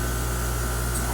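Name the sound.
spray paint being sprayed on a model kit part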